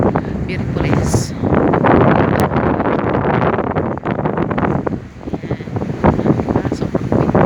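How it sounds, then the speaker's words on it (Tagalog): Strong wind blowing over open water on a fishing outing, a loud, continuous rushing buffet across the microphone with gusting rises and dips. "Sobrang windy. Hello guys, I hear the wind."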